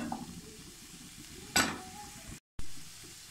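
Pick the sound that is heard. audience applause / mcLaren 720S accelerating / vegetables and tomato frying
vegetables and tomato frying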